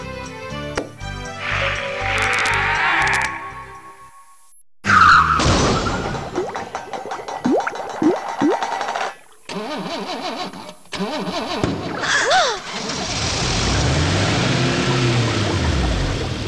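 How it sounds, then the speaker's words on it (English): A car engine cranks and roars to life, revving in bursts, followed by a long, loud tire squeal that sweeps up and down in pitch, with no talking. "He wished for a car."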